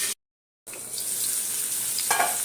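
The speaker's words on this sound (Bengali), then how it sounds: "আলুটাকে একটু ভেজে নিয়ে নিই" Potatoes fry in a pan with a continuous crackling sizzle that stops for a moment near the start and then carries on at moderate loudness.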